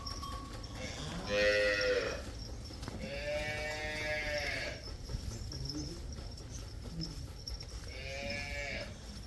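Several HF cows moo one after another on a farm, three long drawn-out bellows spaced a few seconds apart, fairly close, over a steady background hum.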